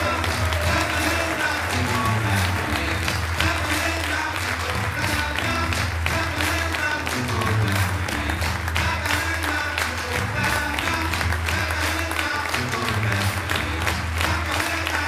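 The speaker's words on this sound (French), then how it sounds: "Merci d'applaudir les lauréats du 25e Festival Gérardmer." Sustained audience applause at a film festival closing ceremony, dense clapping from a large crowd filling the room, steady from start to finish.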